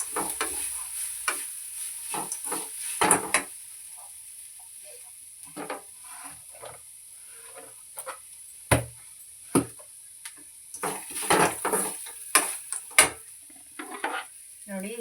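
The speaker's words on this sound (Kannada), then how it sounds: "ಈಗ ನಾನು ತೆಂಗಿನಕಾಯಿ ಹಾಕಿದ್ದೀನಿ ಹಾಕ್ಕೊಳ್ತಾ ಇದ್ದೀನಿ ಇದನ್ನು ಚೆನ್ನಾಗಿ ಸ್ವಲ್ಪ ಫ್ರೈ ಮಾಡ್ಕೊತಿದ್ದೀನಿ" Grated coconut with turmeric frying in a pan, with stirring scrapes and light sizzle in irregular bursts, fairly close and moderate in level, no talk over it.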